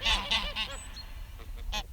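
Farm geese on a farm with wild geese nearby honk loudly and close, giving several nasal calls in quick succession, with a thin, higher cry and more honks following.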